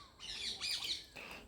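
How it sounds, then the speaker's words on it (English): A kingfisher gives a short, harsh squawking call in two close bursts, fairly faint and heard alone. "Next is a kingfisher."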